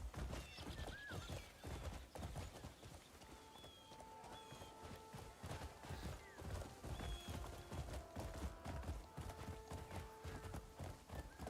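Horse hooves clip-clopping with occasional neighs and whinnies in the open-world video game Crimson Desert, a steady rhythm of footfalls mixed with game music and ambience, no talking.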